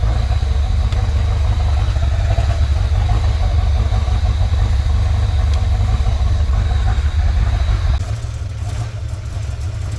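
A car engine runs after a head gasket repair, a loud, steady, close idle with a rough mechanical rumble that drops slightly in level near the end, with no talk over it.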